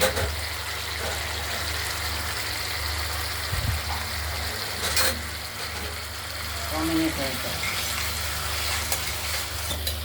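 Spice paste frying in oil for a rohu fish curry with potatoes, a dense, loud, steady sizzle heard up close, with occasional faint scrapes of stirring and a low background hum.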